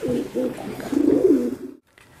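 Soft, throaty cooing from pigeons in a coop repeats in a rolling, rhythmic pattern close by, then stops abruptly into near silence.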